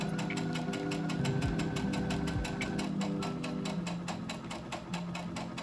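A sewing machine running gathering stitches along fabric ruffles, a fast even rhythmic chatter of the needle close by, steady throughout without voices.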